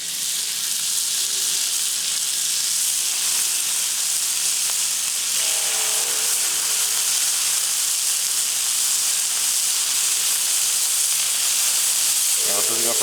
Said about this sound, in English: So start putting these patties on.